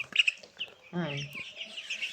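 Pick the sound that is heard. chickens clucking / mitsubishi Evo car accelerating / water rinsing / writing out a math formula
chickens clucking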